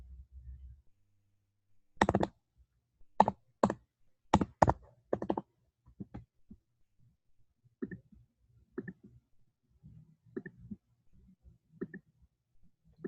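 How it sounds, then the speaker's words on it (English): Bursts of computer keyboard typing, loud clustered clicks of keys at first, then lighter, sparser taps, with near-silence between; no talking. "So I'm going to type this in again."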